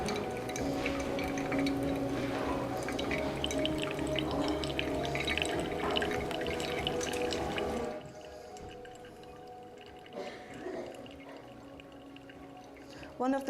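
Hot water poured over ground coffee in a V60 dripper at a brewing competition, a steady trickling stream that stops partway, followed by quieter drips and faint room noise.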